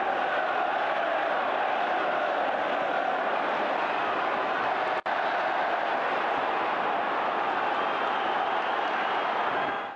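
A stadium crowd in the Sky Sports Football Quiz game roars as a steady, dense wash of cheering that holds at an even loud level throughout, broken by one tiny click partway through.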